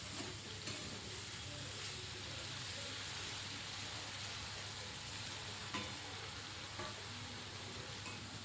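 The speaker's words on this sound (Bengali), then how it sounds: "এবার 5 মিনিট মতো তরকারিটাকে ভেজে নেওয়ার পর দিয়ে দেব ভেজে রাখা মাথাটা।" Eggplant curry fries in a pan for a rohu fish head dish, a steady soft sizzle and crackle with occasional stirring clicks, continuous and fairly quiet, with no talking.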